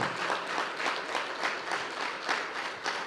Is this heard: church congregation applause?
yes